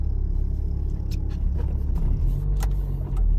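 Car pulling out onto the road ahead, heard from inside a moving vehicle as a steady low engine and road rumble with a few faint clicks, no talking.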